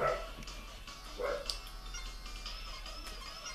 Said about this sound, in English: And now my dog is barking